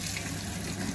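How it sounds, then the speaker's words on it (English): Tap water runs in a steady, close rush as a mystery pouch pulled up while fishing gets rinsed, with no pauses across the short stretch. "So we'll start just by giving it a nice rinse."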